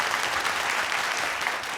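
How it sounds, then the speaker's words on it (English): A quiz audience at a national corporate quiz final applauds steadily, the dense clapping sustained evenly throughout with no speech. "Can we have a round of applause for him,"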